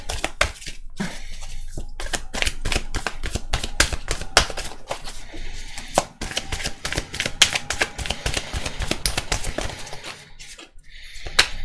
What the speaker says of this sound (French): je vais tirer 4 cartes et puis on va l'analyser après